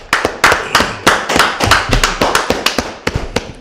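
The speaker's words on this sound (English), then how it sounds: "clap it up" A church congregation at a Saturday Sabbath service claps in rhythm, sharp loud hand claps in a steady uneven beat, close and crisp with no talking over them.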